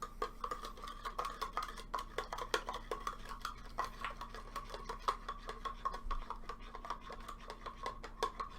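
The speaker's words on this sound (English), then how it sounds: "Stir it up." A spoon stirs sugar into a cup of dark roast coffee, giving steady rapid clinks and scraping against the ceramic that carry on without a break, close up and moderately quiet, with no talking.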